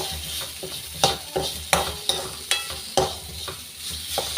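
Fish curry masala is sautéed in a pan, a constant sizzle broken by regular scraping strokes of a spoon about every half second, close and fairly loud.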